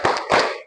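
Two quick bursts of a group clapping a rhythmic classroom cheer during a lesson icebreaker, close and fairly loud, fading out at the end.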